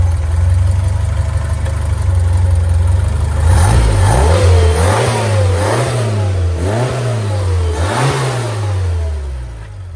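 Engine of a 930 car fitted with Talbot Sunbeam ignition parts, idling smoothly at first and then blipped in four or five quick even revs, rising and falling close up, with no talk.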